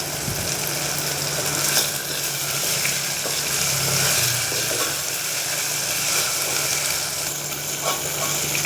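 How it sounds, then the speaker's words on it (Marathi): Tomatoes roasting in a pan for homestyle Maharashtrian masoor dal, a steady close sizzle and fry with faint scraping from stirring, continuous throughout with no talking. "टोमॅटो मस्त भाजला आहे असं दिसतंय"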